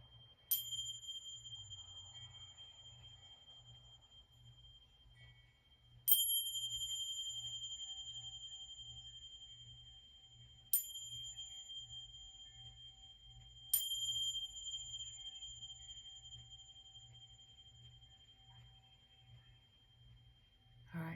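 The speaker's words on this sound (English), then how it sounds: "Got a little extra ding in there, and you can hear the chime outside" A chime rings outdoors in four separate clear strikes, each a bright sustained tone that slowly decays, spaced several seconds apart over a faint low hum.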